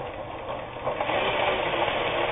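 A Japanese-made Kenmore 158.19802 sewing machine runs a straight stretch stitch, giving a continuous close mechanical whir and rapid rattle that grows a little louder partway through, with no voices.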